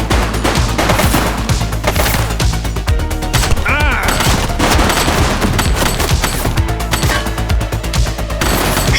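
Sustained gunfire rips through a scene in The Precinct, loud rapid bursts of shots packed densely together, with fleeting shouts mixed in among the barrage.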